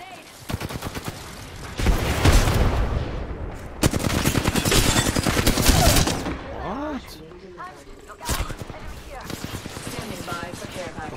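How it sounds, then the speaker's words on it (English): Gunfire in the Apex Legends video game: loud bursts of rapid automatic shots in several volleys, with a game voice and a player speaking between and over the shooting. "I'm under fire."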